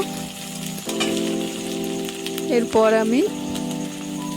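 Onion and ginger paste sautéing in hot oil for a koi fish curry, a continuous close sizzle with a brief spatula scrape and a short squeal partway through.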